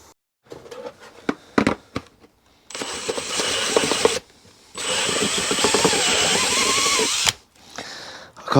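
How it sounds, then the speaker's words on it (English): A power drill enlarges a hole in a VW T5 Transporter headliner: a few short clicks and taps first, then two sustained whirring bursts of drilling with a brief pause between them, close and loud. "Have to get the drill out and make that a little bit bigger."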